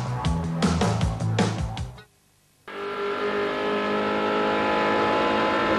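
Touring cars race at Symmons Plains in the 1986 Australian Touring Car Championship, engines revving hard and shifting gears near by, then a brief gap before a loud, steady engine roar resumes.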